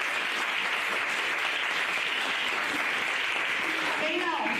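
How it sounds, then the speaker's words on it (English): An audience at a live anatomy event at SNMC Agra claps for Dr. Kamal, a dense, steady round of applause filling the room throughout, with faint voices mixed in. "We can clap for him."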